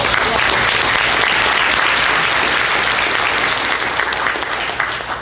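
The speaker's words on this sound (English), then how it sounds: "How about a big round of applause?" Loud, dense applause from a large audience at an industry award event, continuous close clapping that swells and then tapers slightly at the end.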